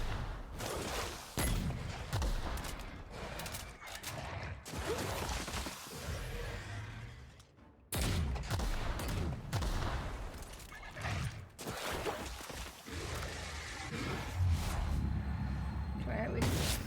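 Grenade launcher fire and explosive bursts in the video game The Outer Worlds, a busy run of loud blasts and crashes layered under ongoing talk from a player.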